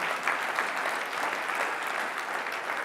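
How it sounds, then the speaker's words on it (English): An audience at a community sports-equity event claps, a dense, steady wash of applause that holds at an even level throughout. "You can clap on that too."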